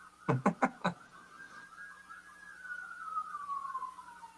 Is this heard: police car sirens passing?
yes